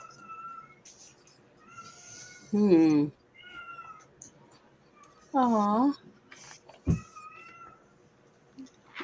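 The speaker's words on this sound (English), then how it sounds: "Sounds like a kitten." A small kitten gives a couple of high, wavering meows that stand out clearly against a quiet room. A person's soft voice is also heard between the cries.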